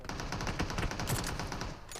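Rapid automatic gunfire from an AKM rifle in the BGMI battle royale game, dense bursts of overlapping shots filling two seconds continuously and loudly, with no talk over it.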